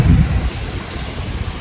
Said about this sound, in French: D'entendre le bruit des vagues.